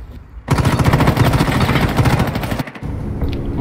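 Automatic gunfire in the shooter game Rainbow Six Siege: a dense, loud burst of rapid shots lasting about two seconds, followed by quieter game ambience.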